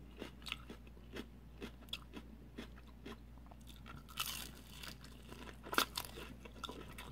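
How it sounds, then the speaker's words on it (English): Crunchy celery stick bitten and chewed up close, a series of crisp, quiet crunches at a steady chewing rhythm with a couple of sharper snaps. "Take a little bite of this celery stick."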